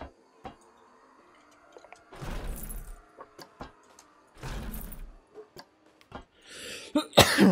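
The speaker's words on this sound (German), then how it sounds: "Jetzt muss ich aber husten." A person coughs close to the microphone: two harsh, drawn-out bursts separated by quiet, then rougher throat-clearing at the end, with scattered small clicks in between.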